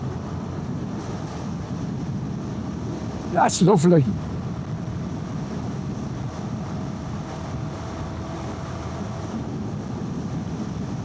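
Steady, loud wind rush buffets the microphone throughout while riding a Royal Enfield Guerrilla 450 motorcycle near 60, just under 5,000 rpm, with a brief spoken remark partway through.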